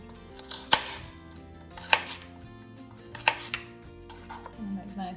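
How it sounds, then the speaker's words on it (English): Knife chopping celery on a cutting board for homemade stuffing, a handful of sharp separate chops at an uneven pace, close and clear, with no talking. "We're just going to cut up the celery."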